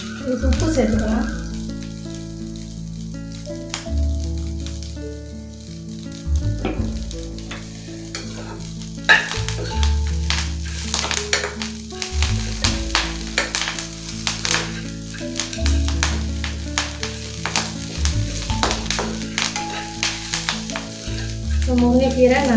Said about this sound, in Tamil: முருங்கைக்கீரை நல்லா வதங்கிடுச்சு.